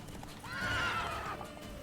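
Roach, Geralt's horse in The Witcher 3, gives a single clear whinny rising and falling over about a second, with soft hoof clops trotting underneath at moderate volume.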